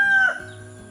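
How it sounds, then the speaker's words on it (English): A rooster in a home garden gives the tail end of a loud, close crow that breaks off sharply, followed by quiet background. "That dadgum rooster is just out of his mind today."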